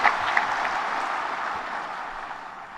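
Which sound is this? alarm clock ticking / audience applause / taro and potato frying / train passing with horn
audience applause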